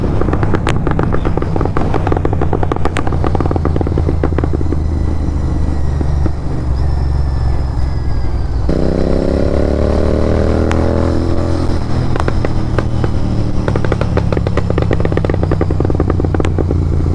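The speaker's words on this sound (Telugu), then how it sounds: "బై మిస్టేక్లో యాక్సిలరేటర్ ఇచ్చి ఇట్లా వదిలేసి లైట్గా పట్టుకున్నామంటే పాప్స్ ఎట్లా వస్తున్నాయి తెలుసు" A Royal Enfield Continental GT 650 motorcycle rumbles loudly and continuously at close range, with a rapid crackle of exhaust pops on throttle release and a rising rev in the middle.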